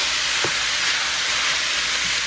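Vegetables for a spicy bean chili cook in a pot, giving a steady close hiss and sizzle with a faint scrape of stirring, no voices.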